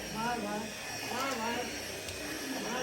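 A household vacuum cleaner runs with a steady whining motor hum whose pitch wavers up and down, close and fairly loud throughout.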